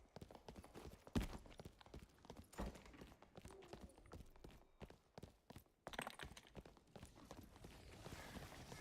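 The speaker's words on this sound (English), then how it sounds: "I was hearing an extra set of footsteps." Footsteps sound in a Dark and Darker dungeon. The steps are faint and irregular, with scattered thuds and shuffles against low background noise and no talk.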